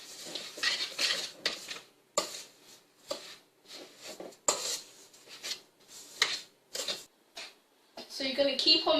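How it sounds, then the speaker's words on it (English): Butter and sugar being mixed with a utensil in a bowl for cookie dough, giving repeated close scraping and clinking strokes in an uneven rhythm, with a voice speaking throughout. "So we have 75 grams of butter and 100 grams of sugar. And now we're going to mix them both together."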